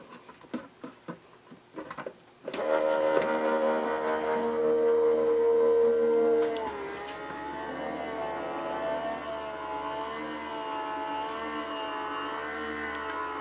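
A Sizzix Big Shot Switch Plus die-cutting machine runs its platform through the rollers, giving a steady motorized whir that starts abruptly after a few soft taps, then eases slightly in pitch and level partway through.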